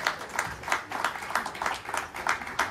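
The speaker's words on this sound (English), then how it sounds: "Give her a round of applause, guys." An audience at a diversity and inclusion event claps for a guest in a steady, rhythmic pattern of sharp, moderately loud beats repeating about three times a second.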